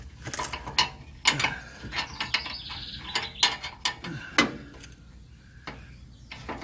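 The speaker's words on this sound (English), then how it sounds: "let's get this wrench back on here" A ratchet wrench works on a 1977 Chevrolet Cheyenne C10 pickup, making faint, close, uneven clicking bursts and short metallic rattles with pauses between strokes.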